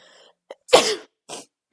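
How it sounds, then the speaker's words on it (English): A single close sneeze bursts out sharply, with a short breathy intake before it and a brief exhale after, and no talking. "I need a fucking sneeze again."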